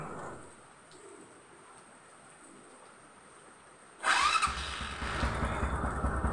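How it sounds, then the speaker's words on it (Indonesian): A Honda Supra 125 motorcycle engine cranks and catches after several seconds of quiet with faint cooing pigeons nearby, then settles into a steady, close idle. "Saya nyalakan motornya dulu."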